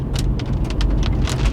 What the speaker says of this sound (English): as the rain and hail starts to pick up again